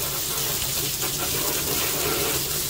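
Water flushing over mounted orchids, a steady close gushing spray like a running tap that continues without a break and with no talking.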